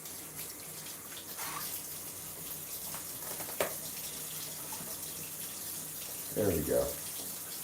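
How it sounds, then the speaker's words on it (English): Kitchen tap running steadily while hands are washed with dish soap, a soft continuous water hiss with a brief louder splash near the end; a voice speaks briefly over it. "let's go wash our hands in the kitchen, where it's better to wash your hands"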